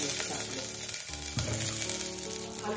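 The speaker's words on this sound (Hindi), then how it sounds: "और 1 बड़ा आलू को मैंने 1/2 कर लिया है। अब ये आलू भी डाल देती हूँ।" Halved potato and green chilies sizzle in hot oil in a kadhai for a Bengali mutton gravy. The frying hisses steadily and close, with a brief stir or clatter partway through and no talking.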